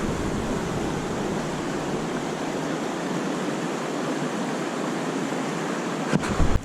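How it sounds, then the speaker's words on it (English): Powerful river water rushing past a riverbank, a dense and steady roar that stays close and loud the whole time, with a few brief knocks right at the end. "The river's powerful, my friends."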